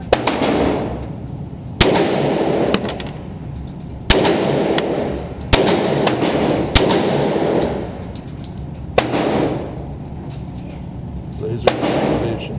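Pistol shots ring out at an outdoor shooting range, about seven sharp loud cracks spaced a second or two apart, with rumbling between them.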